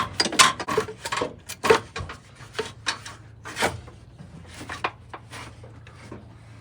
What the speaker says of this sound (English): All right, passenger manifold is free, see if I get it to drop.